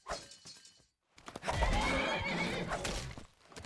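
A horse in the Skyblivion video game, set in a great forest, whinnies loudly and at length after a short pause, with hoof clops and thuds scattered around it.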